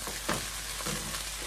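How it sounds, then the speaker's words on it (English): Fried rice with soy sauce and other sauces being stirred in a hot pan, a constant loud sizzle with a few scraping stirs, no voices. "But go ahead and stir this real quick."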